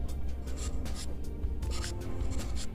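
Numbers are written on a board in short, quick scratchy strokes, several in a row with small gaps, close and fairly loud over a low background hum.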